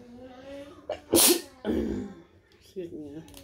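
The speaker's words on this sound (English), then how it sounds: "I feel like I sneezed" A single sharp sneeze bursts out, with sniffing and a voice around it, from someone eating a seafood boil of crawfish coated in Blove sauce.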